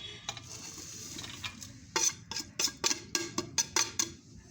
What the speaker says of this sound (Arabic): وهنزل بكل المكونات بتاعتي على بعضها وهقلبها مع بعض.